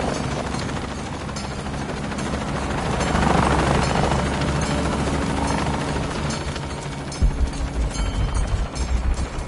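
A helicopter in the Shadow of the Tomb Raider video game thrums with a continuous rotor chop and engine roar, swelling midway, then giving way to heavier rhythmic thumping near the end.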